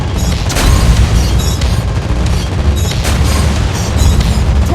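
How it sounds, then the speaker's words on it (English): Rapid anti-aircraft gunfire and heavy booms in a World of Warships Blitz naval battle, loud and dense throughout with continuous overlapping blasts and no gaps. "Anti-aircraft gun on full alert."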